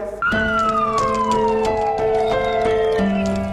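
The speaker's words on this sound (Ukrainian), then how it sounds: "Шепетівські рятувальники під звуки сирени відправили на заслужений відпочинок колегу угнеборця." A loud, close fire engine siren wails steadily, its pitch gliding slowly downward, with a few sharp clanks and knocks over the sustained tone.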